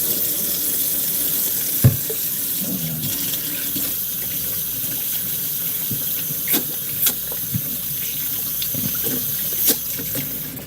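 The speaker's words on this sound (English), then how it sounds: "Let me wash my hand." Hands being washed under a running kitchen tap, water splashing into the sink in a steady stream with occasional louder splashes and clinks, no voices.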